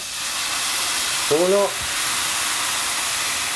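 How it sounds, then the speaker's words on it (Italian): A ladle of hot water sizzles in a hot pan with a steady loud hiss, broken briefly by a short voiced sound in the middle. "Dopo che ha sfrigolato per bene, abbassiamo nuovamente il fuoco"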